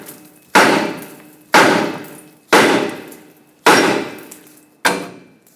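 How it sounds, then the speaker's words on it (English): A hammer strikes a 2009-2014 Ford F-150 steering knuckle five times at roughly one-second intervals to free the tie rod stud, each blow a loud, sharp metallic clang with a ringing decay, close and alone. "take a hammer and tap the knuckle right here so the tie rod stud can break free"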